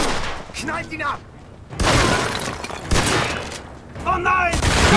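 Gunfire during a distillery shootout in the video game Mafia II, bursts of shots and loud impacts alternating with shouted voices, close and heavy.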